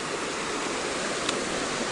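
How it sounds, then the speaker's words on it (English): Small waterfall on a hiking trail, a steady broadband rush of falling water that holds even and unbroken throughout, close by and fairly loud, with no voices. "Map guide says there's a little waterfall here."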